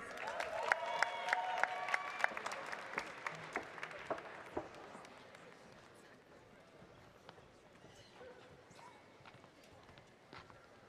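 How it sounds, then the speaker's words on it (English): Scattered claps from a graduation audience at a Heinz College commencement ceremony in 2024, fading over several seconds beneath a speaker's voice announcing names. "Please join me in a round of applause for the Master of Information Systems Management graduates"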